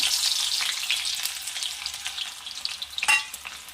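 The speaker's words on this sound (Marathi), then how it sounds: "आपण तापलं का बघू तेल ठीक आहे तापलं तर यामध्ये बारीक चिरलेला कांदा ॲड करायचा" Finely chopped onion drops into hot oil and fries with a loud, crackling sizzle that stays dense and then tapers slightly, with a sharp hiss flaring near the end. No one speaks.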